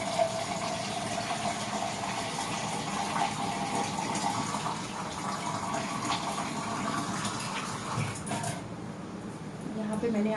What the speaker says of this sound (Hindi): यहाँ पे मैंने आटा सानने के लिए ले लिया है पानी